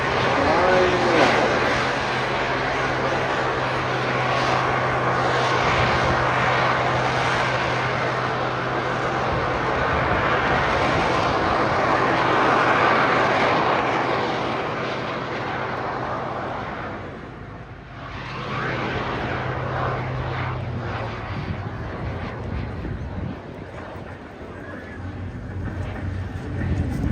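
A jet aircraft flying away at the Eastbourne International Airshow 2026, a loud, sustained engine roar that slowly fades and dips midway before swelling again, with a commentator speaking over it.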